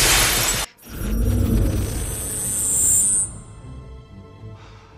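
A pane of unbreakable glass bursts apart, struck by a spy gadget ring: a sharp, loud shatter followed by a long crunching, tinkling spill of glass that fades into quiet.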